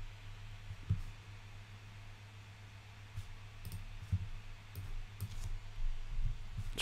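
A computer mouse clicks several times while working in Wirecast software, sharp close clicks scattered irregularly over a faint background hum.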